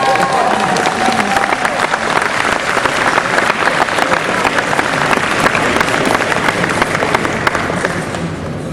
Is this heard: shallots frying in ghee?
no